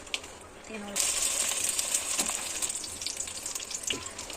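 An egg sandwich bun frying in a pan with a bright, steady sizzle that starts abruptly after a short quiet moment, with a few light clinks of a utensil and a person talking over it.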